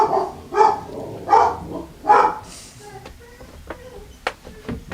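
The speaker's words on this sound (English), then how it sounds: "My dogs are kind of freaking out." Dogs barking in a rapid burst of several loud, excited barks near the listener, followed by quieter yips and scattered short noises.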